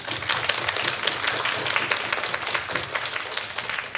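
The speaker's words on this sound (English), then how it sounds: "So how about one more round of applause?" Audience applause at a primary school English debate, a dense crowd of clapping hands, fairly loud and continuous for several seconds, with no talk over it.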